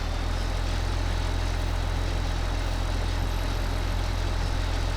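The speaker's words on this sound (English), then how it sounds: "Now it's getting very heavy now. The tractor is struggling." A Ford tractor in Farming Simulator 2015 labours under a heavy pulling load, giving a steady, loud, unbroken engine drone with a deep low rumble and no voices over it.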